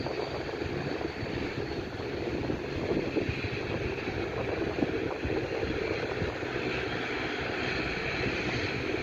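A plane landing at London City Airport gives off a steady, loud engine roar mixed with wind noise, heard continuously outdoors with no talking.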